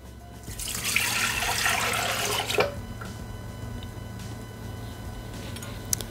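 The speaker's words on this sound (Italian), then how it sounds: "Iniziamo la ricetta mettendo all'interno del boccale il latte." Milk poured into a Thermomix TM6 mixing bowl, a steady liquid splash for about two seconds that then tails off, followed by faint handling noises over a low background hum.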